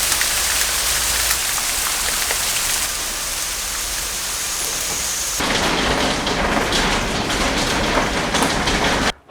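Heavy rain pours down steadily in an English garden in May, a dense loud hiss of drops on surfaces that gets slightly harsher partway through.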